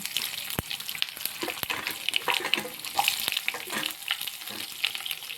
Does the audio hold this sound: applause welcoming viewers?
no